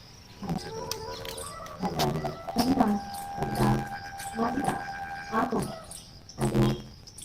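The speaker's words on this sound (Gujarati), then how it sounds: "પક્ષીઓનો કલરવ જોઈને આપણે અંદરથી સારું ફીલ થાય" Birds chirp and call in bursts nearby, with sustained whistling notes among them, mixed with indistinct voices.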